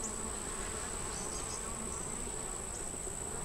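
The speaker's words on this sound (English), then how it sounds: "I can hear a queen in there." Small honeybee swarm with a queen, in a hive box by a long fence: a dense, continuous buzzing hum with a steady high drone on top, close and unbroken throughout.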